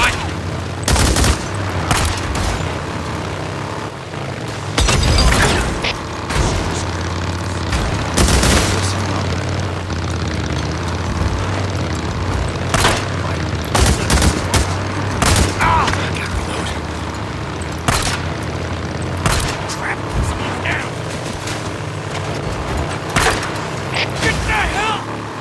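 Gunfire in the video game Days Gone aimed at a bike, with repeated sharp shots and bursts over a steady game background and mechanical clatter, loud and close throughout.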